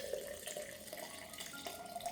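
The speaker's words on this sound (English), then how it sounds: "Add 500 milliliters of warm water." Warm water pours steadily onto rice, giving a soft, continuous trickle and splash heard close and faint with no talking.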